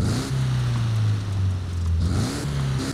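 A deep pickup truck engine drone in Forza Horizon 5, a tuned Mercedes-Benz X-Class, rises and falls in pitch, revving up and easing off twice, steady and close with no voices.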